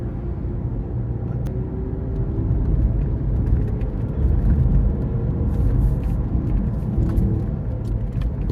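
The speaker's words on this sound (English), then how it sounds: "you can see the rear diff is pretty noisy" Steady low rumbling drone of a Toyota RAV4's noisy rear differential while driving, with a continuous whine and road noise and no talking.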